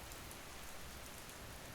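Rain falls steadily outside a small-paned window, a soft, continuous hiss with no distinct drops, quiet and unbroken, with no voices.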